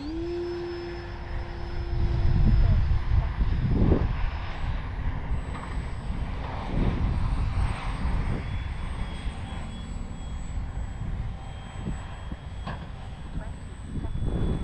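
X-Fly Glastar V2 RC airplane flying in strong wind, its engine a thin buzz rising and fading under wind buffeting and gusts, with someone talking over it.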